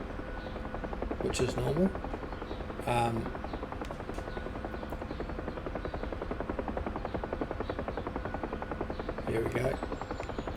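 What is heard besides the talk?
UH-1 Huey helicopter lifting off, DCS video game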